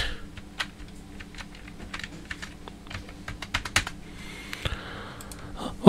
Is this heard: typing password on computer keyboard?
yes